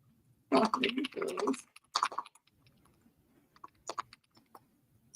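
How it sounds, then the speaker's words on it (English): Computer keyboard keys clatter in quick bursts and scattered clicks, close by, with a voice speaking briefly over the typing. "I'm typing"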